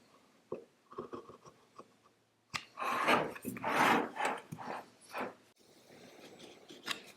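A blade scoring wood around a butterfly inlay, with soft short scratches at first and then longer, louder rasping strokes, close up with no talking.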